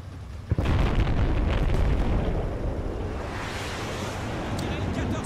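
A heavy boom from an airstrike bombardment in the video game Battlefield: Bad Company 2 rolls into a long, loud rumbling roar of explosions. Voices may be talking underneath.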